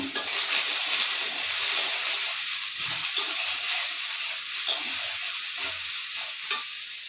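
Vegetables and fish cooking in a pot give off a steady bubbling sizzle and hiss, close and continuous, with occasional small pops and stirring scrapes.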